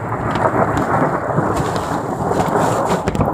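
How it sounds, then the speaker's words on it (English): Deep rumbling thunder rolls continuously beneath steady precipitation hiss during a snowstorm (thundersnow), loud and sustained with no voices. "do you guys hear that? It's thunder."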